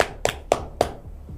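Three or four sharp, evenly spaced hand claps, close and clear, over a faint low hum.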